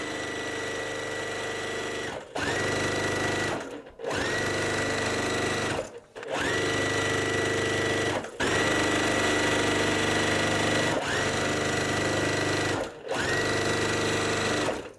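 A sewing machine stitches pieces of quilt block fabric, whirring steadily in several long runs broken by short pauses, close and clear with no voice over it.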